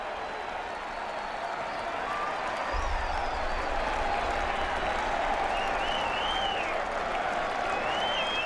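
A baseball crowd at a 1998 Seattle-at-Boston game rises to applaud pitcher Martinez, giving steady, dense clapping and cheering throughout, with a low rumble joining partway in and a faint whistle or two above.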